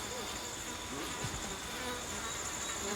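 Angry bees at a beehive in the game Ancestors: The Humankind Odyssey, a steady close swarm buzz that drones on without a break, with no voices over it.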